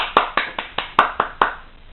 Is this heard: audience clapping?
yes